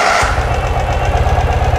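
A 2018 Ural Retro motorcycle engine catches and settles into a steady, rhythmic idle with a low pulsing thump, close by.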